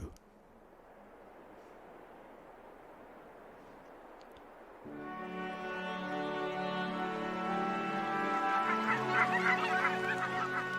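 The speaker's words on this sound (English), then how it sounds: "Whooper swans rest in their thousands in the north of Germany before undertaking their return journey to the Siberian taiga." Whooper swans resting in their thousands in northern Germany before migrating break into a loud, dense chorus of honking, bugling calls that builds and swells after a stretch of steady wind-like background hiss.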